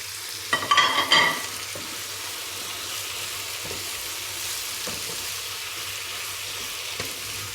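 Tomatoes tipped over eggplants in a hot pan: a short wet sizzling burst early on, then a steady low frying hiss with a faint stir or two, no talking.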